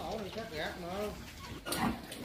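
A farrowing sow and her newborn piglets grunt nearby in a low, intermittent stream, partly buried under a person talking steadily throughout.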